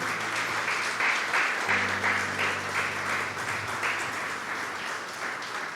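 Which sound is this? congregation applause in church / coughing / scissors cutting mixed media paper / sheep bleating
congregation applause in church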